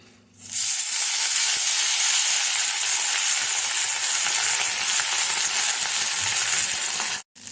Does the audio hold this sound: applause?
no